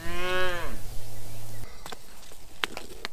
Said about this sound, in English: We're gonna go to the cows now, milk the cow, and then start this day.